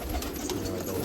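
Pigeons from a long-kept Nashik loft give a short, close burst of soft low cooing, with no talking over it.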